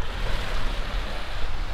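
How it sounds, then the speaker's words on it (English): A sailboat moves through the open Pacific Ocean with wind in its sails, a loud continuous wash of water against the hull mixed with steady wind rush, without talking. "just the boat in the water and the wind in the sails."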